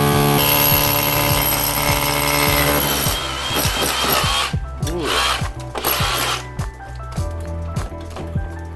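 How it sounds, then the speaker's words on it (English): A power drill grinds steadily through hard rock while boring through a wall for a dryer vent, loud and close, then the pitch wavers and breaks into uneven bursts as the bit pushes through. "That's satisfying when you drill through."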